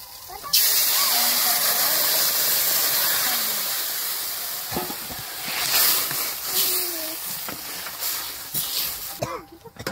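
Hot water poured into a pan of frying potatoes bursts into a loud, steady hiss of steam and spattering, close up, tapering slightly before flaring again near the end.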